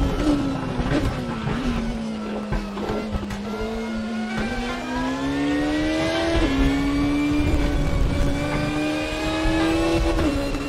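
Prototype race car in the RaceRoom video game at Chang International: a close, continuous high-revving engine drone whose pitch climbs and drops through gear shifts, with faint tire noise underneath.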